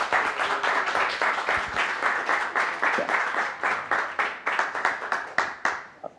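A conference audience at a Python developer event claps after a talk, a smaller group whose individual hand claps stay distinct and gradually thin out and trail off toward the end.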